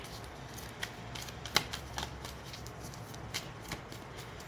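Tarot cards being shuffled by hand, a soft continuous riffling with scattered sharper card snaps and flicks, close up and without speech.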